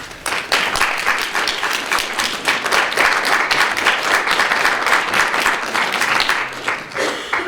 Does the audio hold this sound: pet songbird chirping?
no